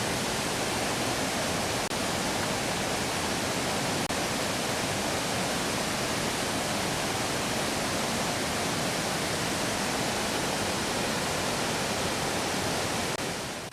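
Linville Falls, a waterfall in North Carolina, pours as a steady, dense, broadband rush that stays constant and loud for the whole stretch with no voices.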